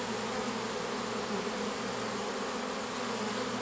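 Large swarm of honeybees producing a dense, continuous buzzing hum, steady and close, with no voices.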